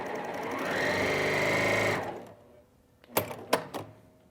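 A Janome HD9 sewing machine stitches a seam in a fast, steady mechanical whir for about two seconds, then stops, followed by a few sharp clicks and taps close by.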